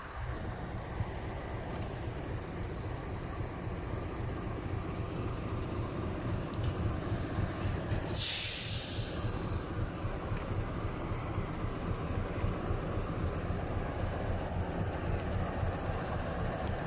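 A diesel shunting locomotive idles at a railway depot in Yogyakarta, with a steady low diesel rumble throughout, broken by a brief sharp hiss of air midway.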